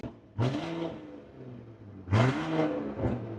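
A powerful Range Rover 4.4 litre twin turbo V8 revs hard twice, each blip rising sharply and then settling back to a deep, burbling idle.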